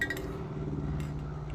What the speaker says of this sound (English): because I did use a rattle can, as you can hear it rattling around